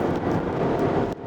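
Steady roar of wind rushing past a Peugeot 308 GT with a 1.5 diesel engine, front-wheel drive and low body, at high speed, a broad constant rush with a brief dip near the end.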